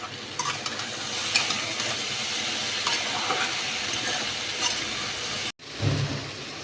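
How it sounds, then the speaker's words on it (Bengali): Okra and potato fry in a pan with a steady, moderate sizzle and a few stirring scrapes, ending in a brief gap and then a short burst of stirring. "আর এদিকে আমি বসিয়ে দিয়েছি ভেন্ডি আলু ভাজা"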